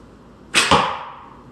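A single arrow released from an archery bow: a sudden close whoosh and snap followed by a second thud-like hit, then a fading rush of air, with no talking.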